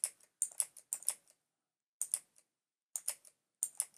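Arrow keys on a computer keyboard pressed in short clustered bursts of two or three clicks, separated by brief pauses, close and crisp against a silent background.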